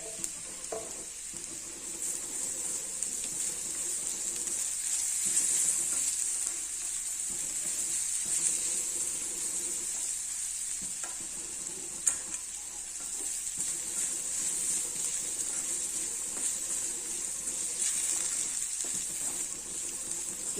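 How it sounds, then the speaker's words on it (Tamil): Potatoes frying with chili powder over a low flame make a soft, steady sizzle with occasional stirring scrapes and light clatter across the stretch; no talk. "கொஞ்சம் ஃப்ரை ஆகட்டும், சிம்லேயே இருக்கட்டும்"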